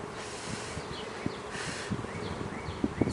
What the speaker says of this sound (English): Busy, busy bees.